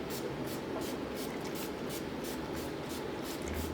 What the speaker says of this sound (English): set everything using this dewy finish spray from NYX